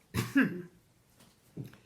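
A single short cough, then a second softer cough after a brief pause, close and clear against quiet.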